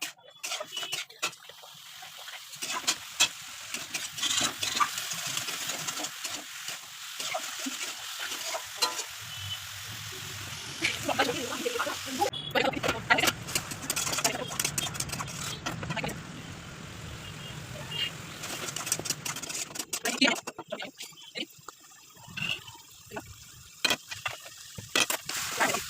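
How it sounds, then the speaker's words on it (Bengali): Vegetables and spices frying in a pan with a little water added, giving continuous close sizzling and bubbling broken by frequent stirring scrapes, loud at times and easing off near the end. "একটু হালকা জল দিয়ে দিচ্ছি, তারপরে একটু ভালো করে কষানো হয়ে যাবে।"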